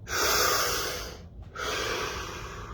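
A slow, deep breath close to the microphone: a long airy inhale, a brief pause, then a steady breathy exhale, with no talking.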